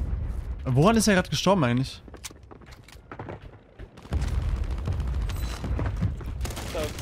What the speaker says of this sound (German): Was zur Hölle ist in ihm explodiert gerade?